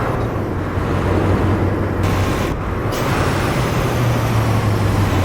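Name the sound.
truck engine brake in American Truck Simulator video game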